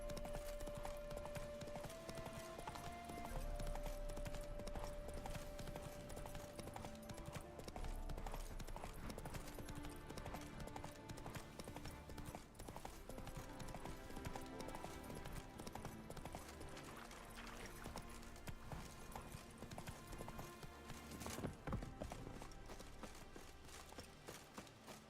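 Horse hooves clip-clop steadily while riding in The Witcher 3, a continuous rhythmic trot at close range set against game music and ambient background sound, with no talking.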